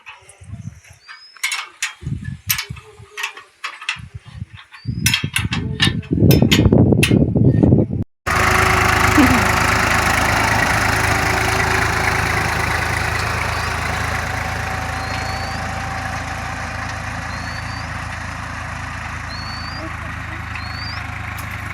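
An old tractor engine: sharp clicks and clatter with voices for the first few seconds, then a steady, loud, droning idle that runs on unbroken to the end.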